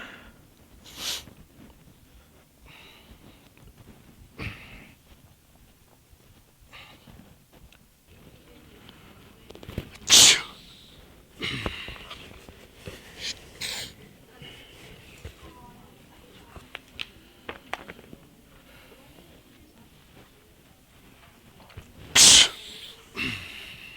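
Repeated sneezes from someone, two loud sharp bursts about twelve seconds apart with softer breathy sounds between, amid faint background chatter.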